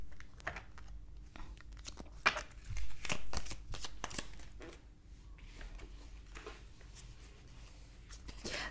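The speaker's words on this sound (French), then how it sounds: "On va prendre une dernière carte." Tarot cards being shuffled and drawn for a love reading, a quiet run of soft riffling and sliding card sounds with a few sharper snaps and flicks, close and gentle with no talk over them.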